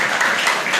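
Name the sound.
applause for the Lord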